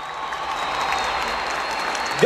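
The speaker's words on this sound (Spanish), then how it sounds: "Oiga, pero aplaudan con fuerza, por favor." A concert audience at a 2019 Cajamarca show claps steadily, a dense, even wash of applause holding at moderate level throughout, with no voices over it.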